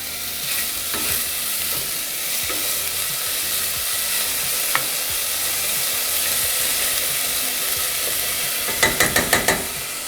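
Vegetables for a red lentil bolognese sizzle steadily in a pan, with light stirring scrapes early on and a quick run of sharp utensil clicks near the end, close and continuous.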